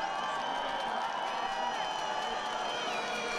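Spectators at a Sochi biathlon course cheer a leading female athlete, a broad continuous roar of crowd noise with scattered whoops and claps, steady and moderately distant throughout.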